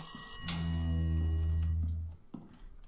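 A telephone rings in the horror video game Rise of Insanity, a loud, sustained electronic bell tone that holds for about two seconds before cutting off, followed by a faint thump.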